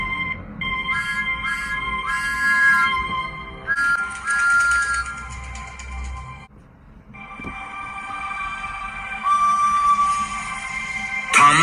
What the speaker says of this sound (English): I'll whistle once more.